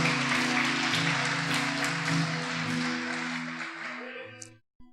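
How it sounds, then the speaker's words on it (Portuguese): A church congregation applauding during a worship service, a dense wash of clapping blended with sustained organ or keyboard chords and voices, fading out near the end. "dê forte esse aplauso"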